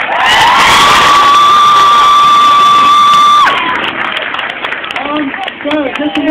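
Loud crowd of schoolchildren cheering and whooping at a last-day leavers assembly, with a long sustained tone dominating the first half, then scattered shouts and voices continuing.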